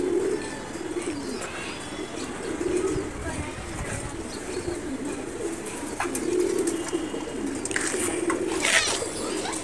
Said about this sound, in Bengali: আর এই সব খাঁচায় আমার সবগুলো কবুতর থাকবো